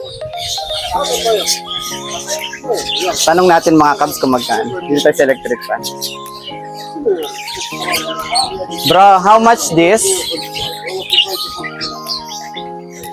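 Several birds in a shop chirp and squawk in bursts, close by and fairly loud, with someone talking over them and asking about a price.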